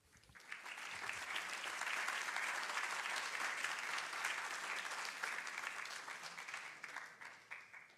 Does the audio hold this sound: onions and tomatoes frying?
no